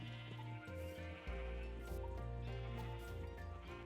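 Several sheep bleat in a Minecraft world, a run of overlapping wavering cries close by with short gaps between them, steady and fairly loud with no talking.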